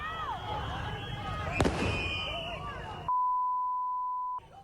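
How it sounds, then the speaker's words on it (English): Fireworks thrown into a street during a tense protest in Minneapolis: a sharp bang bursts over crowd noise and whistling, followed by a long steady electronic beep. "protesters throwing fireworks into the street"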